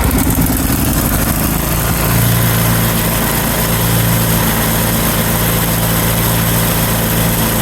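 A Craftsman 10/29 snow blower engine runs at full throttle outdoors in the cold, a loud, continuous mechanical roar with a steady low hum that holds constant throughout.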